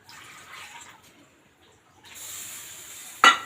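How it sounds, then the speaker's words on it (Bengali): Water pours into a pot of cauliflower cooking on the stove, a soft splashing stream that swells from mid-clip, ending in a brief sharp clink close by. "আরও একটু জল দিতে হবে।"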